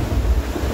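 On a racing sailboat in the Transat Jacques Vabre ocean race, ocean waves crash and a 30-knot wind roars across the microphone in one loud, continuous rush with no voices.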